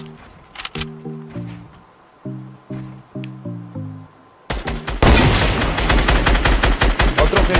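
Rapid bursts of Fortnite Battle Royale gunfire, scattered shots at first then a loud sustained barrage with explosions, over a musical tone pattern.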